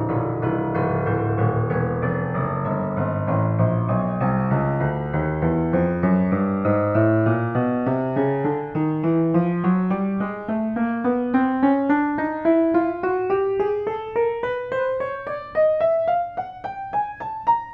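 An Eastein upright piano is played key by key in a steady rising run from the low bass to the high treble, each note ringing clearly, with no talking.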